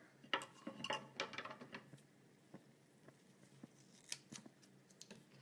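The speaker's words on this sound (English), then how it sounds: "I'm gonna cut it." Scissors cut through material in a series of close, crisp snips and metallic clicks, denser at first and then more spaced, quiet and without speech.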